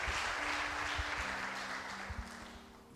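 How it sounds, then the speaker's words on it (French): A church congregation applauds the Lord, a steady wash of many hands clapping at moderate loudness that fades slightly toward the end, with no talk over it. "Let's give a round of applause to Lord."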